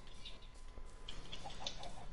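Chickens cluck softly at a chicken farm in a Minecraft-style game, brief scattered clucks and bird calls spread across a faint, steady background.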